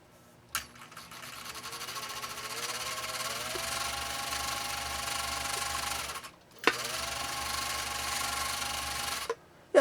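A Husqvarna sewing machine runs in two bursts, each starting with a click and a rising hum that settles into a steady whirring stitch rhythm, then stops abruptly, close and fairly quiet with no talk.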